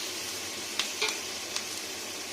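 Whole onions, garlic and capsicum stir-fry in melted butter with a soft, constant sizzle and a few light scrapes of a utensil against the pan.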